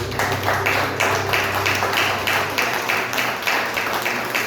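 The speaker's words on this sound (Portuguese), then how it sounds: "Agradeço o Senhor com as palmas" A church congregation claps in praise, a steady rhythmic run of loud, close handclaps with a low hum underneath and no speech over it.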